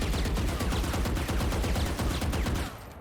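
A Valorant rifle fires a continuous rapid automatic burst without the Combat Stim buff, dense close shots for nearly three seconds before stopping.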